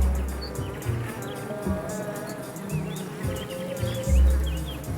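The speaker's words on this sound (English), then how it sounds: "Right next door, there's another outpost of the insect kingdom, a honeybee hive." Honeybees hum and buzz close by around a hive in winter, a wavering drone that swells and fades as individual bees pass, with faint bird chirps in the background.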